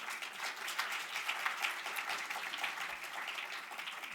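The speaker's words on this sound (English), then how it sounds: "Ladies and gentlemen, give your panel a round of applause." An audience at a humanitarian conference on Yemen applauds a panel with steady, fairly faint clapping that stays even throughout, with no talk over it.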